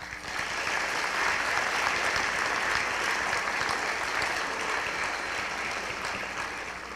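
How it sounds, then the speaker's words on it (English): A school audience at a senior honors night applauds in a steady, continuous roar of clapping that lasts several seconds, full and even before easing slightly at the end. "now we can applaud"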